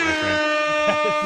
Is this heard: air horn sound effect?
yes